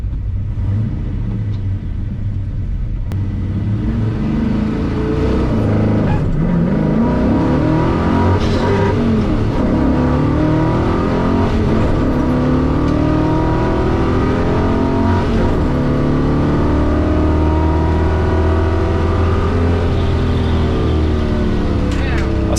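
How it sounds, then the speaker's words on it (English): A drag racing car with an Edelbrock Air-Gap intake accelerates down a drag strip, its loud engine rumbling and rising in pitch through the gears, with a voice talking over the sound. "A popular car at the local car meets made its first passes down the track."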